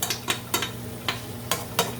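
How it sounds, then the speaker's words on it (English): Vegetables sautéing for vegan fried rice, seasoned with garlic powder and pepper: a steady pan hiss broken by repeated sharp clinks and scrapes of a utensil stirring against the pan, close and without talk. "And just continue to saute the vegetables together"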